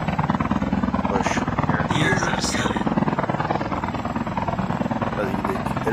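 A helicopter in a video game, its rotor producing a continuous rhythmic chop at steady loudness under game noise, with a brief burst of sharper sounds partway through.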